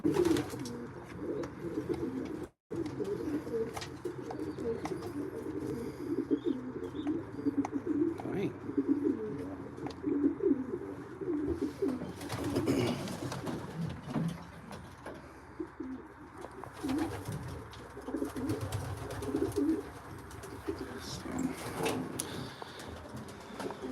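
Racing pigeons coo softly in a loft, their low, repeated burbling calls overlapping in a continuous, moderately quiet chorus with occasional rustles and light knocks.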